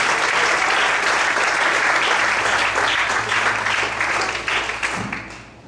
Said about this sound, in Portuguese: Aplauda o Senhor com alegria.